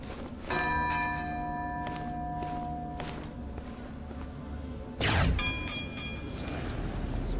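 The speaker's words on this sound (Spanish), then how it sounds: "Y hay que darle aquí a la campana." A church-style bell rings out in the video game Castlevania: Lords of Shadow, struck twice with long sustained ringing tones, the second strike loud and near over a low rumbling game backdrop.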